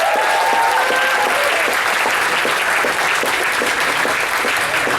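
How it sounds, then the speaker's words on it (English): Loud, dense audience applause for a stand-up comedian in Austin, a steady roar of many hands clapping with some crowd noise and a few whoops near the start. "Give a big round of applause for Austin's own J.R. Brown."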